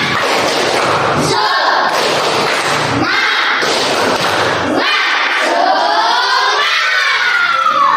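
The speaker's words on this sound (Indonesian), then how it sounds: "Tepuk semangat" A class of students performs a rhythmic clap-and-chant routine: heavy, punchy group claps in quick patterns broken by loud shouted voices, close and energetic throughout.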